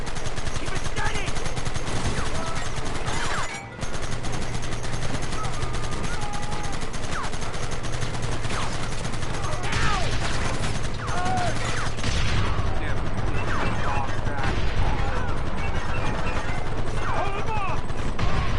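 Rapid bursts of gunfire in the Western game Red Dead Redemption, loud and sustained with machine-gun-like volleys, one brief pause, and shouting voices mixed in throughout.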